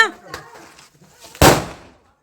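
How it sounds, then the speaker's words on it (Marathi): A single sharp Diwali firecracker bursts nearby with a loud crack that fades quickly, after a few faint pops and distant voices. "इथं मस्तपैकी सगळेजण फटाके उडवत होते"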